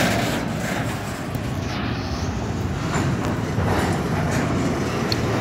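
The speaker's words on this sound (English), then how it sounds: "I hear another train." A long CSX freight train rolling past, a steady, loud rumble of wheels and cars with faint clanks and squeals over the continuous roar, with no break in the sound.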